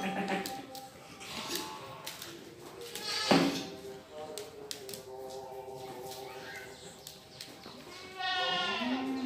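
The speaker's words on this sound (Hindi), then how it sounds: "ये तोतापरी बकरियां है" Totapari goats on a goat farm bleat in several drawn-out, wavering calls, one loud and close near the end, with people talking and clattering sounds around them.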